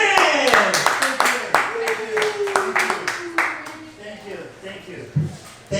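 Scattered hands clap in a small crowd at a comedy open mic in a library coffee shop in Long Beach, with sharp individual claps that gradually thin out while a host talks loudly over them.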